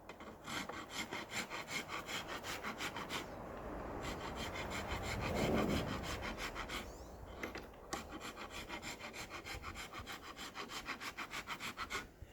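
Rhythmic rasping strokes of a file working the bevels of a wooden gull wing bow, close and steady, with a brief pause midway before the even back-and-forth resumes.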